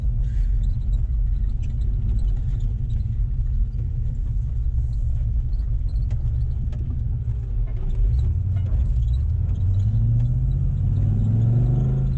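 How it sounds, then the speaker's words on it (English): Nissan Patrol fitted with a Chev LS1 V8 engine driving on the road, a steady loud low rumble throughout with a rising rev toward the end. "We're out test driving a Nissan Patrol that I wired up a couple of years ago"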